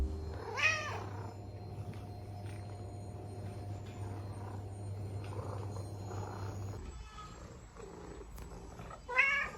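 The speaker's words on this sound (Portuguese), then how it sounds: "os sons do gatinho foram feitos pela Miúte, que é a gatinha de estimação do engenheiro de som do filme" Miúte, a pet female cat, meows in short harmonic bursts near the start and again at the end, with a steady low hum and quiet room noise in between.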